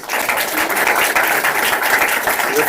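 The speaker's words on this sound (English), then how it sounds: "let's give a round of applause to all our competitors." Brief, full applause from the audience at an entrepreneurship prize final round as it cheers the competitors, a thick wash of clapping hands that stays steady throughout.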